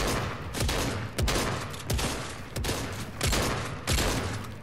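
Gunfire in a video game, heard as a series of sharp, loud shots spaced at a steady rhythm, about six reports, each with a short decaying tail, close and in the foreground.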